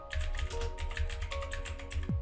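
Text typed on a computer keyboard into a PowerPoint text box, a fast, close, even patter of key clicks with no pauses, ending in a small plasticky knock.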